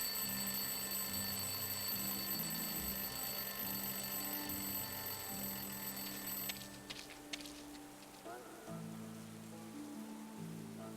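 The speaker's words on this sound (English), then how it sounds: "Why would someone throw away a perfectly good alarm clock?" An alarm clock rings continuously from inside a rubbish bin in a video game, a steady high electronic ring over soft rain-like ambience and low music, cutting off partway through.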